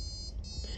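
A piezo buzzer driven by an Arduino plays a brief melody of thin, high electronic tones that switch pitch in quick steps over a steady low background hum.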